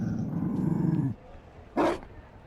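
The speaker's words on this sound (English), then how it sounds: "You found a dog?" A Mabari war dog in Dragon Age Inquisition gives a low, sustained rumbling growl up close for about a second, then falls quiet before a short, sharp burst follows.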